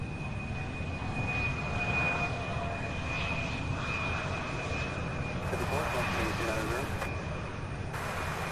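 Airbus A300 at Louisville International Airport, a steady distant roar of jet engines that persists throughout, with a constant high whine on top and people talking underneath.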